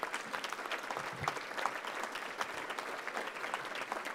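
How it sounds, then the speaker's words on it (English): An audience applauds Isaac Smith at a gathering, with continuous, moderately distant clapping filling the room at an even level throughout, no voices on top. "Let's give Isaac a round of applause."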